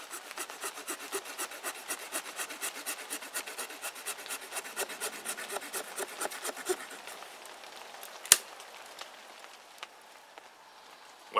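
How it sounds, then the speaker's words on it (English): A hand saw cuts through a Y-shaped wooden branch in quick, rhythmic rasping strokes that fade toward the end, followed by a sharp crack and a few faint knocks. "I'm going to utilize this Y branch and I'm going to cut it off right here."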